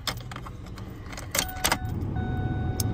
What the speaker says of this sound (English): It's fired up so you can see the miles.